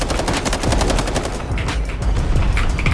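Automatic gunfire in the Delta Force shooter game, rapid loud bursts cracking in quick succession close by, with a few heavier thumps mixed in and no speech over it.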